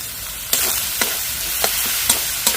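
Ground garam masala, Kashmiri chilli powder and coriander powder fry in a little oil, a soft continuous sizzle broken by about five evenly spaced spoon taps and scrapes against the pan.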